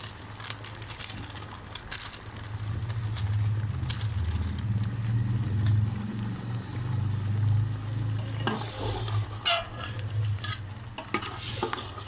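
Chicken pieces from a 2 kg pack frying and being stirred in a hot karahi for chicken korma, a steady low sizzle with scraping stir strokes close by and a sharp clatter near the end.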